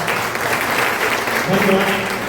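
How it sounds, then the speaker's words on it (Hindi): Audience clapping fills a hall during a Hindi motivational business seminar, a steady dense wash of applause throughout with a voice briefly rising over it near the end. "1 करोड़पति वाली ताली क्लैपिंग हो जा सकते हैं"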